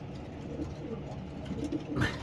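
Racing pigeons coo softly in low, throaty murmurs, several birds close by inside a loft, with faint rustling and background noise.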